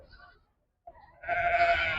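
A short pause, then a loud, close bleat from a goat or sheep at a livestock market that carries on to the end.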